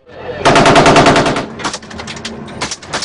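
Soldiers fire back at Al-Shabaab attackers in Somalia with loud, close machine gun bursts, a rapid rattling string of shots followed by scattered further rounds.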